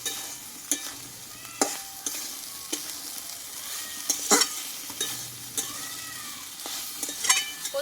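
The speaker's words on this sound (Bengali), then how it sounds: "এবার এর মধ্যে দিয়ে দেবো কষে রাখা সোয়াবিন আর আলুটাকে দিয়ে দেবো একসঙ্গে দিয়ে সবগুলো একসঙ্গে ভালোভাবে আরও আমি এক মিনিট মতো কষিয়ে নেবো" Soybean chunks and potato stir-fried together in a pan for a Bengali vegetarian dish, with a continuous sizzle broken by repeated spatula scrapes and clinks against the pan, close up and without talk.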